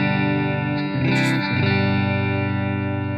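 Electric guitar with a humbucker and coil split, played through the bridge and middle pickups together, ringing a sustained, full, slightly distorted chord that is restruck once midway and rings on loudly.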